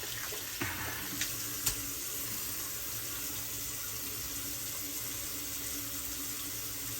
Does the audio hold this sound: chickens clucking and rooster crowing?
no